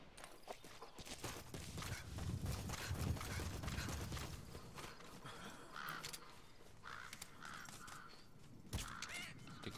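Crows cawing in the video game Metal Gear Solid V, a few harsh calls sounding at moderate distance over a faint outdoor ambience with soft rhythmic hoof-like steps.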